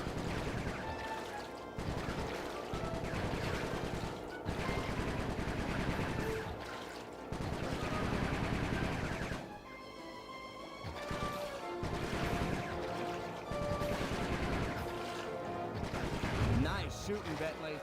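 Sustained gunfire in Sly 3 during a mission shooting at blue bikers, dense rapid shots layered over continuous music and game effects, with brief pauses between long volleys.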